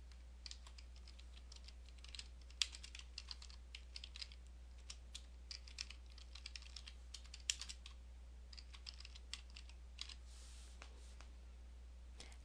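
Steady typing on a computer keyboard, close and fairly quiet, with irregular key clicks running continuously over a faint electrical hum.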